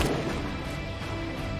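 Gunfire from a weak, rarely used gun in a video game, a dense continuous burst of rapid shots that fills the whole moment at steady loudness.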